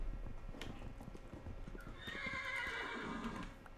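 A Minecraft horse gives a loud, close whinny partway through, preceded by a run of quick clip-clopping hoofbeats.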